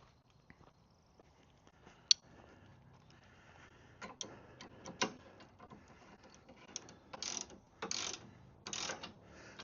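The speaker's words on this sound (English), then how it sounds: "So I'm just tightening it down to take up a little of that slack" Ratchet wrench tightening bolts on a Rippa R13 Pro folding top, sparse quiet clicks and ratcheting bursts with a sharp tick early on, growing busier and louder toward the end.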